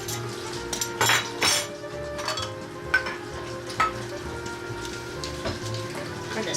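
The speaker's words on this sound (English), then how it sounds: "Got to wash the butter off." Water runs and splashes steadily to wash butter off a pan in a kitchen during fudge making, with a soft continuous spray and occasional louder splashes.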